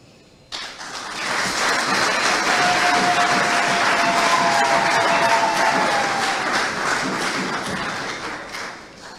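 An audience bursts into loud, sustained applause that starts abruptly, holds steady for several seconds, then gradually thins out, with no talk over it.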